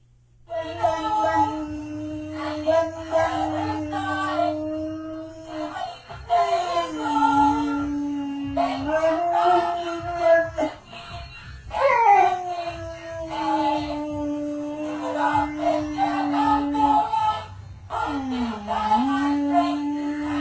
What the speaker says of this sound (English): Yeah, that dog's a singer.